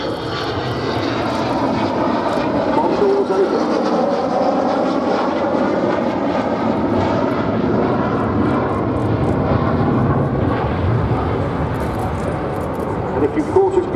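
Avro Vulcan XH558 bomber in 1970s squadron camouflage flying at the Duxford airshow, its engines roaring loudly and continuously as it passes, with a commentator talking over the sound.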